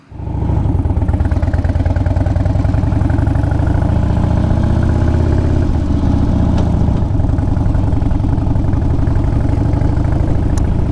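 A Harley Davidson motorcycle engine idles while warming up, a loud, close, steady low rumbling putter that holds evenly throughout with no voices.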